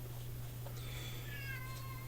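A cat meows twice, a drawn-out rising then falling call followed by a second shorter one, faint and close over a steady low hum.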